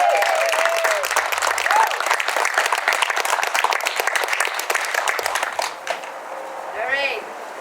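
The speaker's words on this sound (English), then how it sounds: "can we really give them a big round of applause?" Sustained applause from a crowd at a solar installation celebration and awards gathering, dense steady clapping that tapers off near the end, with faint voices underneath.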